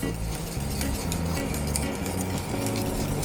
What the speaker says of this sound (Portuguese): Vamos mexer enquanto ainda está bem quente.